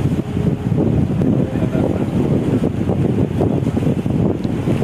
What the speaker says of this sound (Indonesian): Rasa ni hujan lebat, angin pun kuat.